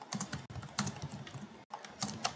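Quick clicking keystrokes on a computer keyboard, close and fairly quiet, in bursts separated by brief pauses, with no talking.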